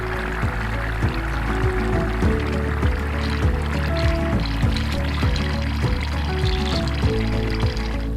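Water flushes steadily through a new carbon RV water filter, a loud continuous rushing pour with a fine trickling texture and repeated small gurgling sweeps throughout.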